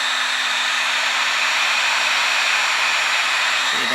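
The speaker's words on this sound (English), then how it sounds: "I use this heat gun." A heat gun blows hot air onto wire insulation on an old S10 truck's AC Delco alternator wiring, a steady, loud broadband whoosh with a faint motor hum, running alone throughout.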